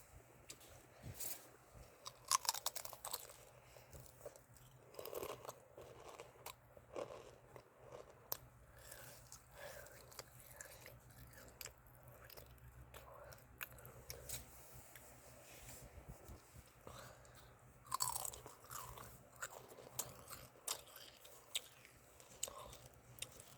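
Food eaten close to the microphone, with steady crunching and chewing running throughout, broken by occasional sharper bites and small mouth sounds at a quiet, intimate level.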